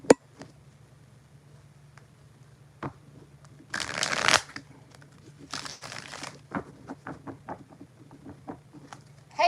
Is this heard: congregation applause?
no